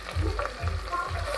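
Curry leaves frying in a pan for basmati rice pulao, a steady close sizzle with a few stirring pulses, with no talk.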